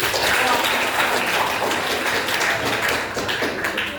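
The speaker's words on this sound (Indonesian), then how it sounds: "kasih tepuk tangan untuk tadi" Classroom applause during a coding and artificial intelligence lesson, a dense steady rain of clapping from a group, fairly close and sustained without talk.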